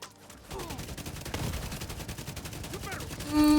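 Shotgun gunfire in the video game Division 2, several sharp bursts over dense game sound effects, with a voice briefly speaking in the mix.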